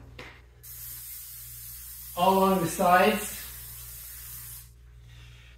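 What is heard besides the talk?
Pam cooking spray sprayed on snow blower chute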